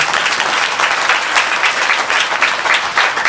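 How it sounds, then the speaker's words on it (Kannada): A congregation at a Sunday church service breaks into loud, sustained applause, a thick continuous wash of clapping from many hands with no speech over it. "ಚಪ್ಪಾಳೆ ದೇವರ ಮಹಿಮೆಗಾಗಿ"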